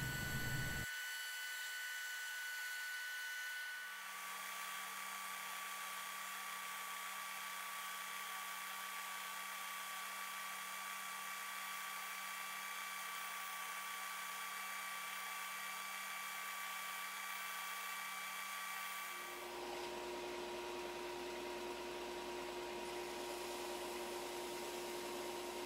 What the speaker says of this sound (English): now I'm gonna head out to the bandsaw and try not to cut off any of my fingers again and cut out the upper profile